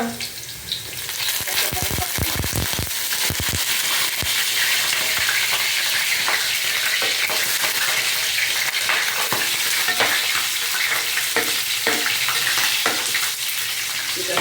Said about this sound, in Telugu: ఫ్రై అవ్వాలి.